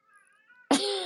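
A pet cat lets out one loud, close, drawn-out meow for attention, sudden after near quiet, with faint tonal background sound before it.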